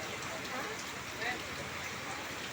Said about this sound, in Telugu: వాన ఫుల్గా పడుతుంది, వాన ఫుల్గా పడుతుంది